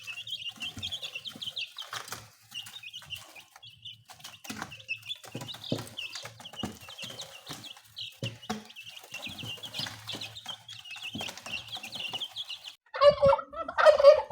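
Organically raised free-range chickens on a poultry farm cluck and call in a busy, continuous flock chorus, with a louder burst of squawking near the end.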